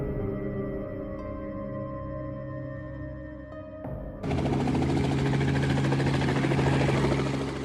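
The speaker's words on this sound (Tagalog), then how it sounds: "Narinig mo iyon. Helicopter iyon." In an animated cartoon, a steady mechanical hum gives way to a sudden loud, continuous helicopter rotor roar that holds strong before easing slightly at the end.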